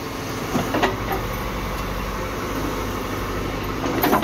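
A JCB 3DX backhoe loader rumbles steadily while loading mud into a tractor, with a low, continuous engine drone and a few scattered knocks and clanks of the work.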